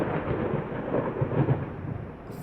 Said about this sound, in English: fucking thunder and lightning is ridiculous.